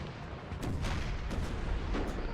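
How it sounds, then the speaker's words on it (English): Artillery fire in Napoleon: Total War, a dense, continuous rumble of distant cannon booms rolling over one another, with a few sharper reports standing out, steady and loud throughout. "Artillery still being a massive problem"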